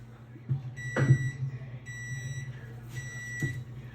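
A kitchen timer, used while baking pizza made from freshly-milled flour, beeps in short bursts of high tones repeating several times over a low steady hum, with a few soft thumps in between.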